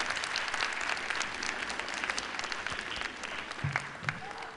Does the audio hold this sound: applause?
yes